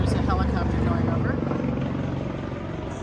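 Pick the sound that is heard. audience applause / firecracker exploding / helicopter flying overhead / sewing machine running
helicopter flying overhead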